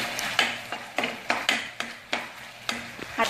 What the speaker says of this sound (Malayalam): ഇത്രയും ചേർത്തിട്ട് നന്നായിട്ട് ഇളക്കി